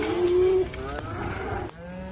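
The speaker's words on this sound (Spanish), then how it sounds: "En este establo hay un rebaño de vacas que la evolución nunca habría podido crear." Cloned cows in a barn lowing: one long, loud moo at close range, then a second, rougher bellow overlapping it, and a lower moo starting near the end, with no talking.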